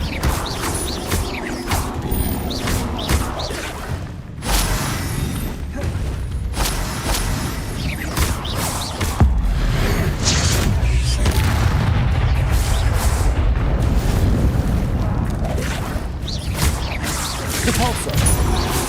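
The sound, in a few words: spells cast in video game Hogwarts Legacy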